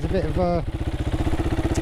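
A Herald Brute 500 motorcycle engine runs off the bike with a steady, throbbing low rumble and noisy exhaust pulses, close and loud, while someone talks over the start of it.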